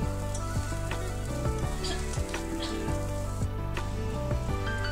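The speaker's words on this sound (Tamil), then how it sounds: "இப்போது பொடியாக நறுக்கின கருவேப்பிலை கொத்தமல்லியை இதோட போட்டு கலந்துக்கலாம்." Chillies, shallots, curry leaves and coriander fry in hot oil for a savoury kozhukattai filling, giving a steady loud sizzle with faint stirring clicks and no talk.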